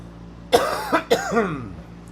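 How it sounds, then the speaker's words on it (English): Three sharp coughs in quick succession, close and fairly loud, followed by a short throaty exhale. "I don't want to cough in your face"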